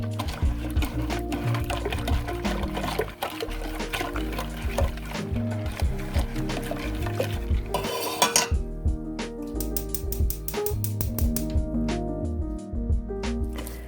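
Metal utensil scrapes and clinks against a pot in a steady stirring rhythm, with ringing pan tones and a bubbling, liquid texture, as a thick eclair dough mixture is brought to a boil on the stove.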